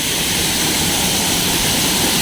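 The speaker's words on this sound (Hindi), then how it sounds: "यहाँ पे पानी का बहाव बहुत तेज़ है" Fast mountain stream pours along a slippery, rain-soaked trekking trail to Chitta Katha Lake, a steady, loud, close rush of water filling the whole moment without a break.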